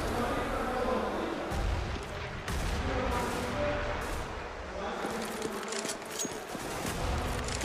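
In a CS:GO match, a grenade explosion rumbles amid steady gunfire and game noise, with a commentator talking over it throughout.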